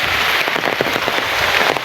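Heavy morning rain pours down in a dense, steady hiss with scattered louder drop impacts, close and continuous throughout.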